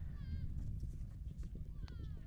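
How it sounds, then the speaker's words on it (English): A piebald show jumper gallops toward the final fence in a 1.60 m class, its hoofbeats thudding in a quick rhythm under an announcer's commentary and arena noise. "Gallops to the last."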